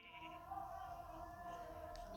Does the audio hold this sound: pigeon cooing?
no